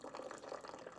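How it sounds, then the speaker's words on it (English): A Zojirushi CV-JAC50XB hybrid water boiler dispensing on its slow setting, a soft continuous trickle of water pouring into a cup, quiet and close. "the other option is slow, so the water comes a little slower, so it doesn't splash"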